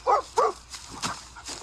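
AI-generated dog barking from a Veo 3 clip: two quick, close barks followed by softer, scattered yips and whimpering sounds over a low background hum.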